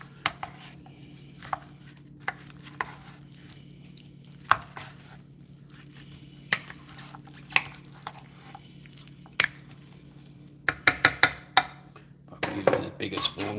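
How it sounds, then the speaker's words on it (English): Beef pot pie filling mixed and folded in a bowl, with sharp spoon knocks against the bowl spaced out at first, then quickening into a clattering run of scrapes and taps near the end. "mix it all up really good."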